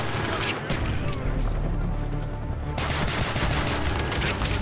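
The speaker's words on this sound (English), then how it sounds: "Oh, the pistol's doing work." Pistol gunfire in a video game, loud and continuous with rapid overlapping shots and a brief dip before the firing resumes, with a voice talking underneath.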